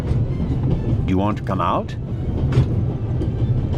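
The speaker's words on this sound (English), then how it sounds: "I'll stop the train" Steady low rumble of a moving train in the video game The Raven: Legacy of a Master Thief, running continuously at moderate loudness beneath close conversational speech.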